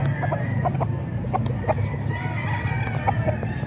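Boston Gilmore gamefowl roosters at a market cluck and crow in a steady, busy chorus over a low background rumble, with no voices over them.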